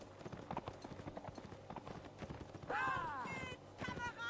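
Horses' hooves clip-clop in a Napoleonic Wars game battle, a busy patter of hoofbeats under game noise and talk, with a sudden sustained tonal blare taking over near the end.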